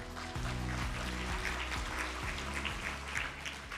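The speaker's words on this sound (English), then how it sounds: "Let's give him a round of applause." An audience at an ethics and policy session in genomics applauds a speaker, a soft, distant patter of many hands over a low humming drone, fairly even and without voices.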